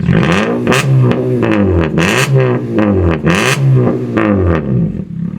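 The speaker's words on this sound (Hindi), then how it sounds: "बार रेव करके दिखाना, साउंड अभी कैसी आ रही है भाई। अब करो भाई रेव।" A modified Toyota Etios with a stage 1 tune and a full loud exhaust system revs repeatedly, each sharp rise and fall of engine noise close and loud, about seven blips in quick succession with no talking.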